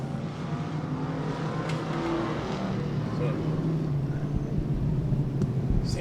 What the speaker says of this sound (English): The pace car is back out to get him realigned.